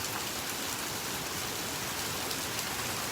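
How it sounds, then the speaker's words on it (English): Rain coming down on a beach, a dense, even hiss of falling drops, steady and moderately loud with no breaks. "listening to the rain coming down"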